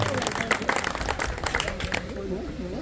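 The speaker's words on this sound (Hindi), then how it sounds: "एक जोरदार तालियां हमारे नगर पालिका अध्यक्ष जी के लिए।" Applause from an outdoor crowd at a pigeon-flying prize distribution in Raebareli, honoring the municipal council chairman: a burst of scattered clapping that fades after two seconds while someone speaks over it.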